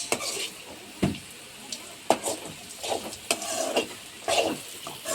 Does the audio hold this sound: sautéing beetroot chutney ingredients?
yes